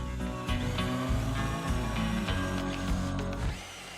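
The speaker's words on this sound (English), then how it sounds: "I'm just going to drill as deep as the collar here, just so I can keep it nice and consistent" A power drill bores holes into wood to a consistent depth set by a collar, during a woodworking build. It gives a loud, close, steady whirring drone broken by a few short dips as the bit cuts in, with no talking.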